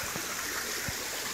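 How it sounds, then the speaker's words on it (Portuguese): A backyard waterfall kept flowing by a pump gives a steady, close rush of splashing water, a continuous broadband wash with a few soft low gurgles. "Aqui é onde fica a bomba, que ele faz todo o processo de girar a cachoeira dele lá."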